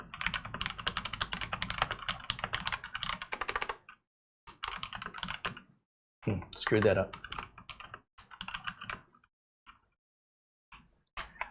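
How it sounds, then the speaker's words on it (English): Someone types on the keyboard of a Minisforum AI X1 Pro in close, rapid bursts of clicking separated by short silences, with a brief spoken remark in between. "my typing teacher back in the day would have scolded me for this, but I'm going to keep my hand on home row"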